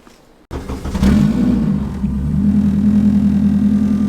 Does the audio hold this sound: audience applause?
no